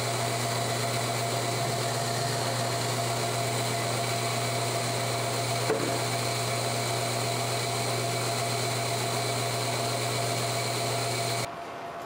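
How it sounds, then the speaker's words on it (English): A 4-bottle automatic bottler fills bottles with liquid, giving a steady mechanical hum and whir that runs close and unbroken for about eleven seconds before cutting off abruptly near the end. "we have a 4-bottle automatic bottler in which the appropriate amount of liquid is added to the bottles"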